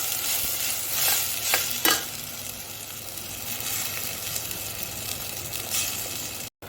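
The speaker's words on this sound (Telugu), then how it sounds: "ఇప్పుడు కొద్దిగా టమాటా పేస్ట్ కూడా తీసుకున్నాను ఈ రెండు కలిపి వేగాలి బాగా" Tomato paste mixture frying in a pan for an Andhra-style mutton paya dish, with a continuous close sizzle and a few sharper scrapes of stirring early on, steady throughout with a brief dropout near the end.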